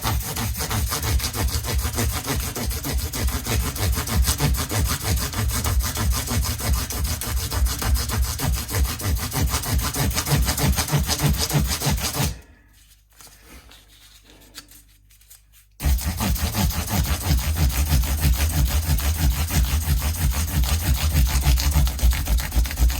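Guitar frets on a Telecaster-style neck are rubbed with 1000 grit abrasive in a steady, fast back-and-forth scrubbing, loud and close, with a three-second pause midway before the strokes resume.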